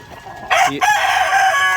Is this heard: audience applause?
no